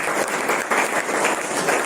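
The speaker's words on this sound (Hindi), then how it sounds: "स्नेहा बेटी के लिए जोर से ताली बजाएं।" A church audience claps loudly in a dense, steady burst of applause lasting a couple of seconds, with no voices standing out.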